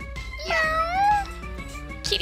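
A cat in the shop-keeping video game Recettear lets out a drawn-out, rising-and-falling meow over a soft rhythmic game backdrop, with a brief second cry near the end.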